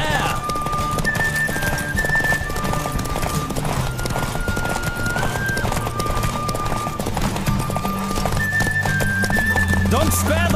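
A horse gallops in The Witcher video game, its hooves drumming in a continuous fast clip-clop. Brief neighs rise near the end over steady game music and background voices.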